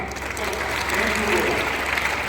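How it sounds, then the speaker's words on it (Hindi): An audience at an awareness program gives a round of applause, the clapping swelling slightly and holding steady across the moment. "के लिए जोरदार ताली।"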